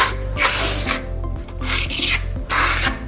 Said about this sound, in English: You can hear from the sound of the trowel that it has a texture to it, just kind of gritty.